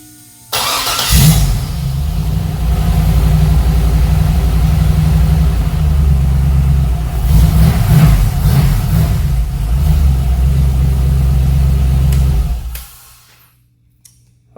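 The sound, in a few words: LS test engine starting and revving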